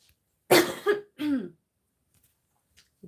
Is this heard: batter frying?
no